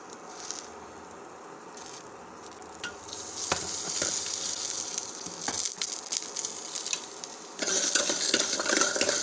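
Coriander seeds roasting in a few drops of coconut oil in a pan, a soft steady sizzle with scattered crackles and stirring scrapes, growing a little louder near the end, with no talk.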